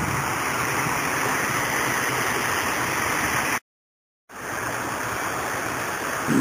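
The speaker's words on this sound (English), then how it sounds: "it's quite a waterfall." A steady roar of water tumbles over a waterfall on Los Gatos Creek, a dense continuous rush broken by one brief silent gap before the torrent resumes.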